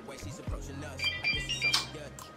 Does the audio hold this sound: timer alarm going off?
yes